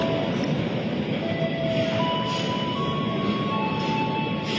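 The Senja Utama Jogja passenger train, running from Jogja to Pasar Senen, rumbling past: a continuous low rolling roar with steady mechanical hum and faint high whining tones, loud and close, no voices.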